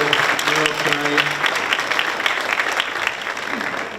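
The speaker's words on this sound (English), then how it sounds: "our food service director, Erica Biagetti, a warm round of applause." Warm applause from diners at a school superintendent's awards dinner, steady dense clapping across the room with a voice briefly audible underneath at the start.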